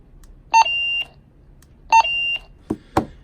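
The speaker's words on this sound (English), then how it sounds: "So when you push the button, you get the beep there." A Motorola CP200 two-way radio sends MDC 1200 signaling tones: two short electronic beep bursts, each a brief high chirp followed by a steady tone, then two sharp clicks, close and clear.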